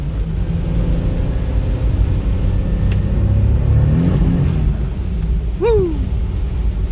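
A twin-turbo Toyota Supra struggles for grip on a cold, rain-soaked road, its engine droning and rising as the wheels spin, with a steady rumble of wet tire and road noise throughout and a brief sharp whoosh near the end.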